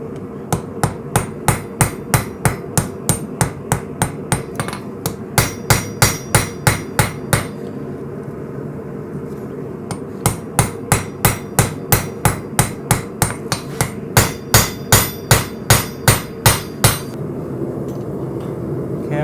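Steady, ringing hammer blows on coil spring steel as a hunting knife is forged, struck in quick rhythmic runs with short pauses between series, close and loud with no talk.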